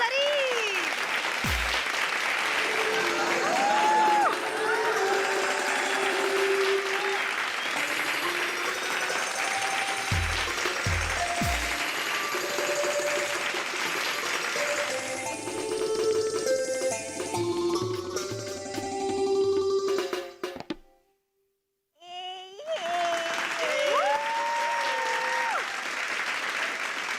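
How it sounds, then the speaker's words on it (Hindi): A studio audience at a comedy show applauds a performer, sustained clapping that runs under a host's voice and music, stops abruptly for a moment, then resumes. "एक बार जोरदार तालियां हो जाए"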